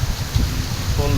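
Heavy rain pours in Lahore, a steady dense wash of rainfall hitting surfaces close by, loud and continuous throughout the short stretch with no voices.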